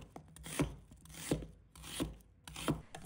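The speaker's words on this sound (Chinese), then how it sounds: "准备半个洋葱， 把它切成小块" A knife chops half an onion into small pieces on a cutting board, four distinct, evenly spaced cuts with a rubbing scrape between them, close and clear without talk.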